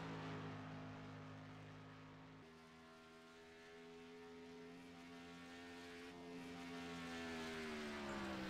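A Ford Mustang race car runs on track at Kentucky Speedway, its engine a steady distant drone that fades slightly and swells again as it passes.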